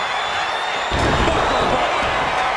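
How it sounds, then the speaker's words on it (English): The arena crowd at WrestleMania 41 in Las Vegas roars steadily during a CM Punk, Roman Reigns and Seth Rollins main event, a dense wall of cheering that swells partway through. "CM Punk rallying the crowd behind him"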